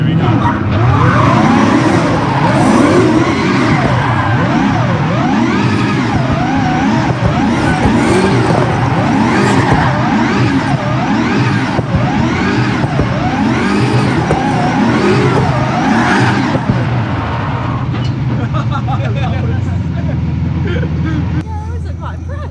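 McLaren 720S sports car driving hard on a track, its engine revving and rising and falling in pitch continuously and loudly, with people talking over it throughout.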